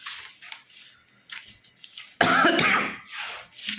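A woman coughs after studying chemistry: a few short, breathy bursts, then one loud, harsh cough close to the microphone with a rough throaty tail.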